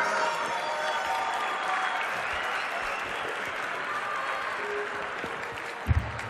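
Audience applause at an outdoor Museum Day concert with several bands, a sustained broad clapping wash from a large crowd that carries on steadily before a couple of sharp knocks near the end.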